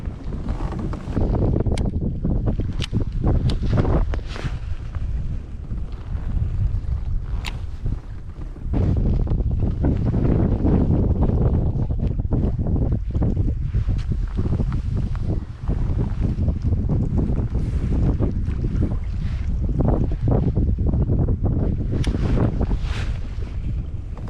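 Wind buffets the microphone outdoors during winter kayak fishing in rough conditions, a loud continuous rumbling roar with gusty bursts over the whole stretch and no talk.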